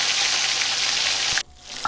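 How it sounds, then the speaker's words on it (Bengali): Tilapia frying in hot mustard oil in a wok, a loud steady sizzle that cuts off sharply near the end, leaving a quieter, thinner crackle with a small clink. "মাছটা ভেজে নেব। মাছটা কড়াইয়ের মধ্যে দিয়ে দিলাম।"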